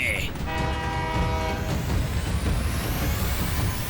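A cartoon train rumbles loudly along the track, its horn blaring briefly near the start before the heavy, steady roar of the cars continues.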